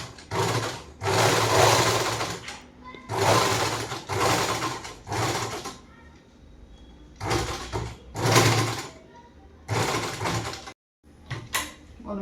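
A home tailoring sewing machine converted from foot pedal to motor, run in loud bursts of rapid stitching with short pauses between runs, close by, with no talk.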